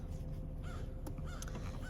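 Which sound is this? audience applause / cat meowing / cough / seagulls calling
seagulls calling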